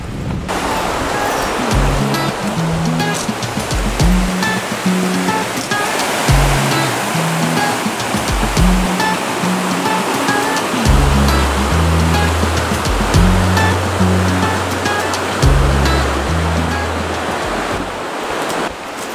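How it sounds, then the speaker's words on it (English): Swift Creek in Washington State rushes steadily over rocks along a forest river trail, a loud, continuous broadband roar with occasional low thumps of wind or handling and no talk. "let me give you guys a few shots of what I am assuming is Swift Creek"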